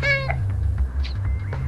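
A cat meows in the video game Stray: a clear, high meow opens the clip over a low, droning game soundtrack that steps between tones, followed by fainter, softer mews.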